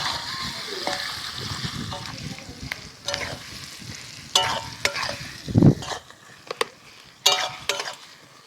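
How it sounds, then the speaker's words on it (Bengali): Onions stirred in hot oil with dried red chillies for a Bengali chicken curry, a steady frying sizzle broken by repeated scraping clinks of the spoon against the pan, close and fairly loud. "পেঁয়াজটা ভাজা অবধি আমি নাড়তে থাকি।"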